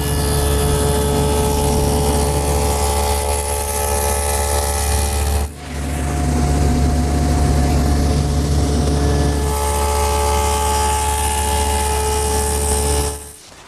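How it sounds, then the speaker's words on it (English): Table saw cutting a tongue on the end of a large wooden panel, a steady loud whine running continuously, briefly dipping midway before resuming and then cutting off at the end. "and I'll do that on the table saw."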